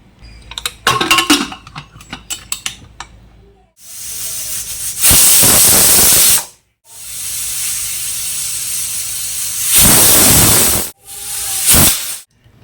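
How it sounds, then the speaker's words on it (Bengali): Pressure cooker whistling as it cooks moong dal with green chillies, giving long loud steamy hisses in several bursts with short pauses between them, after a stretch of lighter clatter at the start. "2-3টে প্রেসার করে সিটি মেরে নেব"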